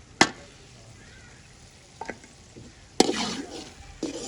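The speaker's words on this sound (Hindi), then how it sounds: "इसको काफ़ी देर अब मैंने भूनना ताकि टमाटर नजर ना आए।" Chicken mince with tomatoes and green chillies frying in a pan, a low sizzle broken by a few sharp clatters and scraping stirs from a utensil, close by with no talking.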